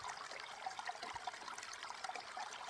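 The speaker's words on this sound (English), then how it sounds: "Got a nice little waterfall." Water splashes and trickles steadily from a small waterfall falling over rocks, faint and continuous with no voices.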